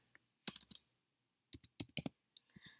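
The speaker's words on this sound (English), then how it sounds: "So I have some typing to do." Typing on a computer keyboard, with bursts of sharp clicking keystrokes in short irregular runs separated by pauses, close and clear with no talking.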